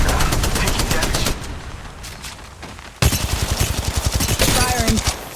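Rapid automatic gunfire from the mobile battle royale shooter Apex Legends Mobile, dense bursts of shots, a brief lull near the middle, then renewed sustained firing loud and close.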